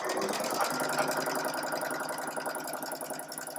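A sewing machine stitching through a quilt block of fabric, a steady, rapid mechanical whirring and chattering that runs continuously without pause, close and moderately loud, with no talk.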